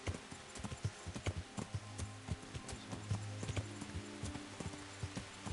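Horse hooves clip-clop at a steady walking rhythm in the medieval video game Kingdom Come Deliverance, quiet and close, with a soft snort and a faint background music tone.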